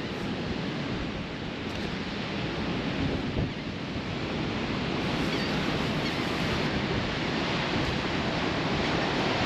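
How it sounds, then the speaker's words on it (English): Rough ocean surf breaking on a windy morning beach at Kill Devil Hills in the Outer Banks, a steady, loud wash of waves with gusting wind buffeting the microphone throughout, no voices. "Ocean's a little rough this morning"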